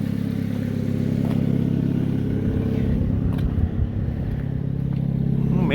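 Idling engine of a 2005 Hyundai Accent with an exhaust leak near the muffler, a close, steady low chug with a faint rattling puff over it, heard alone without talk.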